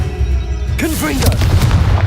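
A Confringo explosive spell going off in the Hogwarts Legacy video game, with a loud, deep boom and crackling impact over a continuous rumbling battle background. A short voiced cry is heard during it.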